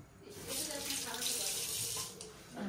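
Water gushes from a tap into a pot for boiling peanuts, a steady close splashing rush lasting about two seconds before easing off, with faint household sounds around it.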